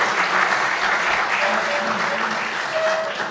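An audience at a book inauguration ceremony in a tea house claps steadily for a few seconds, a dense continuous round of applause heard close and loud.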